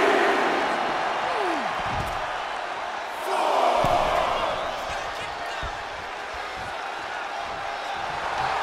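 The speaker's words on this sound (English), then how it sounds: "Dragunov drawing a big reaction from the crowd" Arena crowd noise from a WWE 2K24 NXT wrestling match, a broad steady roar that swells around a wrestler's big move, with thuds of impacts and commentary-like voices running underneath.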